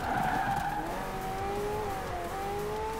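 Car drifting under the e-brake in the Forza Horizon 4 racing game, sustained tire squeal wavering in pitch over a low engine drone, loud and continuous with no talk.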